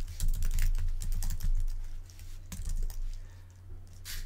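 Fast typing on a computer keyboard while coding a Pygame grid, a steady flurry of close key clicks with a brief pause midway and a low hum underneath.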